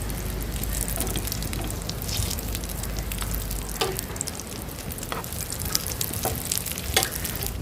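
A snack that has just been flipped fries in a pan with a dense, crackling sizzle that runs throughout, broken by scattered pops and light stirring clicks.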